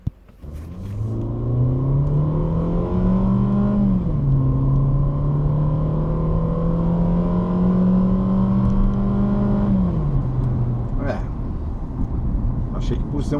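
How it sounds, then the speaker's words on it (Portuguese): A Fiat Argo 1.8 accelerating on a test drive: a loud, close engine drone rising in pitch through the gears, with a brief dip at a shift and a second climb. Talk is heard over it. "agora a gente vai começar a avaliação do Argo, vocês vão ver que o Argo realmente é um carro muito mais lento, muito mais letárgico na aceleração"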